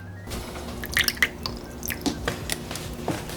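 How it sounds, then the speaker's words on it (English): Vanilla extract poured from a teaspoon into wet ingredients for keto pumpkin chocolate chip muffin batter, giving a few soft, close drips and small squishy liquid sounds in a quiet kitchen. "So I'm going to put in about a teaspoon of vanilla extract."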